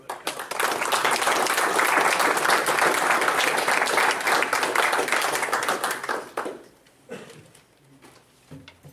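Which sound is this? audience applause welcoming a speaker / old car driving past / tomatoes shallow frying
audience applause welcoming a speaker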